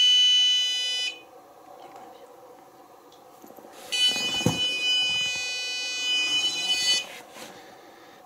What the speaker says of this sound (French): Pouvez-vous refaire sonner le pod là?